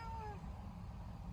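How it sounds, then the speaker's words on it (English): A household cat meows once, a short, close, falling call over a low background hum. "This is the boys' cat."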